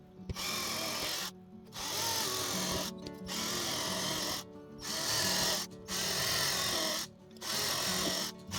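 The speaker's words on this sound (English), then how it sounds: "I'm gonna drill the holes here" A power drill bores holes into a model railway staging yard board, running in about six short bursts of high-pitched whirring separated by brief silent pauses, close and fairly quiet.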